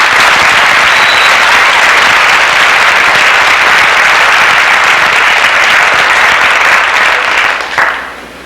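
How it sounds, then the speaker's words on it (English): Sustained, dense applause from an audience at a school performance show, loud and even for about seven seconds before it tapers off at the end. "Would you give them a round of applause?"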